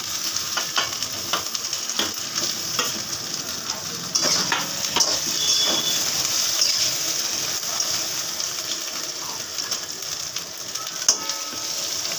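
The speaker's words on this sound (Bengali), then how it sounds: "পেঁয়াজটা ভাজা হয়ে গেছে, এবার আমি বেগুনগুলো মিশিয়ে দিচ্ছি এর মধ্যে।" Eggplant is stirred into frying onions in a pan, with repeated scraping stirs over a continuous close sizzle of hot oil and no talking.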